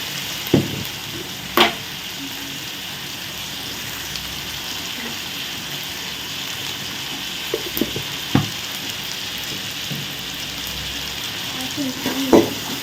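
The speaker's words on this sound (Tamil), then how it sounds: "தக்காளி பழம் நல்லா வதங்கட்டும்" Tomatoes sauté in a pan for brinjal and drumstick kara kuzhambu, giving a continuous low sizzle broken by a few sharp knocks and scrapes.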